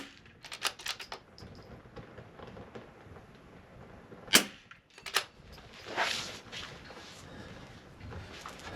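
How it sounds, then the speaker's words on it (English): Three sharp rifle shots fired from a seated position during an NRL22 rimfire match, spaced about a second apart and fairly loud over a quiet background with light handling noise. "I'm going to break these 3 shots"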